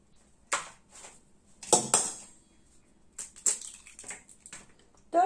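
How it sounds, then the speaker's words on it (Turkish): Several crisp taps and cracks of eggshells against a bowl, followed by wet splats, spaced irregularly in a quiet kitchen while making biscuits. "Şimdi yumurtalarımızı kırıyoruz."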